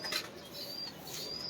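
Pigeons taking flight from a rooftop loft, soft bursts of flapping wings with faint bird sounds, quiet and somewhat distant against a light background hiss.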